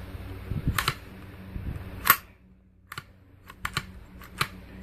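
A Ruger rifle's action is racked by hand after a buffer upgrade, making several scattered mechanical clicks and one sharper metallic clack close by, with dull handling thuds between them.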